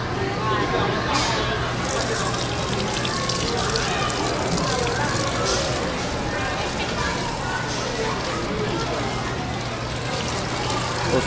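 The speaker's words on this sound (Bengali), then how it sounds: "আঁকার পর হাত ধোয়া।" Water running from a tap as children wash their hands after painting at a children's museum, a continuous loud splashing rush that holds steady throughout, with a faint hum beneath.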